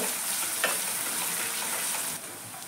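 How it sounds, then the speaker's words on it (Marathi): Chopped onion sizzles and fries steadily in a hot pan for a Maharashtrian Agri-style French bean stir-fry, a continuous close crackle with a brief stir near the start and no talk. "आता मी कांदा घालते, बारीक चिरून घेतलेला आहे एक कांदा। चांगला असं परतून घ्यायचं आहे ब्राऊन होईपर्यंत।"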